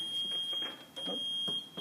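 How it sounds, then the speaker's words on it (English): An inverter alarm beeps with a steady high-pitched electronic tone, cutting out briefly near the middle and then returning, loud and close, with faint background murmurs beneath it. "You'll hear the alarm, so you can just, if that annoys you, just turn it off."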